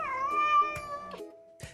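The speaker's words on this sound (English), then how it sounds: "Meet Paws. She's a Minnesota cat with 28 toes" A Minnesota cat with 28 toes gives one long, drawn-out meow with a wavering pitch, followed by a few short clicks and thumps, close to the microphone and with no talking.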